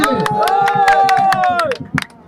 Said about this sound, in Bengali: জোরে করে করতালি সবাই